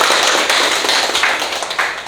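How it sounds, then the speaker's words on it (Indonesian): A classroom of students claps for a group after a presentation, a close, loud burst of uneven hand claps lasting about two seconds, with no one speaking. "Kalau begitu tepuk tangan dulu untuk kelompok ini."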